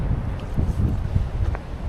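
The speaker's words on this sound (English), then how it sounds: "as you can maybe hear, it's pretty windy" Steady wind buffets the microphone in low rumbling gusts, constant and close throughout, in rural Xinjiang, China.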